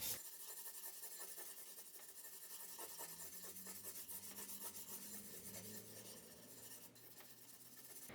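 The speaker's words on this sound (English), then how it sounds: "Cover the entire surface with charcoal. Press lightly, but make it very dark." Charcoal rubbed evenly over an entire drawing surface with light pressure, a steady soft rasping scrape that continues without a break from start to finish, close and fairly quiet.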